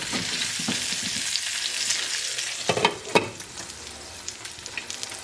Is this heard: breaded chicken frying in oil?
yes